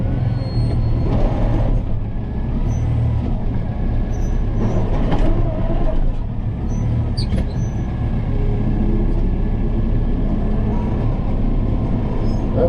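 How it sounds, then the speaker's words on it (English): A tractor engine runs steadily with a loud, low rumble while lifting a heavy piece of wood in winter, the sound holding near and constant with slight surges and no talking. "It's nice with the tractor."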